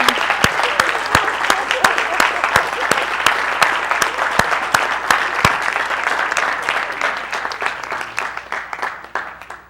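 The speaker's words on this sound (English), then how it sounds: "give Mr. Yahuah a hand clap because he's wonderful" Audience at a church service applauds with steady hand clapping, dense and sustained close by, while voices call out under the clapping.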